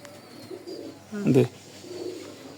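Racing pigeons give a short, soft coo at close range, with a louder throaty burst in the middle, over a quiet background and without clear talking.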